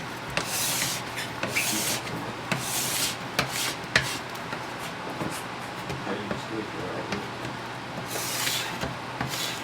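A plastic scraper drawn along a cross-country ski base to remove excess glide wax, producing repeated rasping strokes, some longer and hissy, close and fairly loud, with a voice talking in the background.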